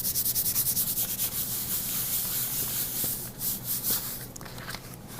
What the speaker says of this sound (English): Flip it over, give it a nice little back rub just to make sure those flowers do not fall off.